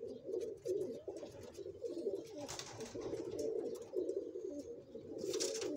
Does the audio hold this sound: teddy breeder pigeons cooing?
yes